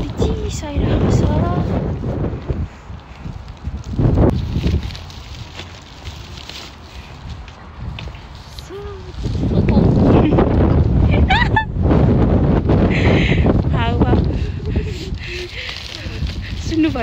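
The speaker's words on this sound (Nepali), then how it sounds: "सुन्नुभयो त तपाईँहरूले हावाको साउन्ड अहिले क्या मजाको आयो।" Cold wind blows outdoors, buffeting the microphone in loud rumbling gusts that swell and fade, mixed with people talking.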